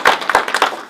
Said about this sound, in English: So how about a round of applause for Rich?